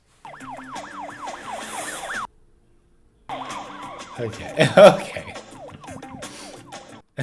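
A police siren in the 1986 film Ferris Bueller's Day Off wails, rising and falling steadily, cutting out for a moment before resuming with traffic noise and brief voices underneath.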